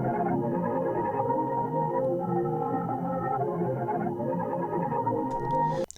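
A murky, underwater-sounding textural sample layer in a dark experimental beat, a continuous droning wash with moaning, whale-like tones that holds steady and cuts off abruptly at the end.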